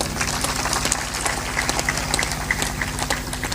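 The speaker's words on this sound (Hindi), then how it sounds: "ताली बजाकर अभिनंदन करो" Audience applause at a Hindi religious discourse gathering, a steady wash of many hands clapping at close range, sustained and even throughout without pauses.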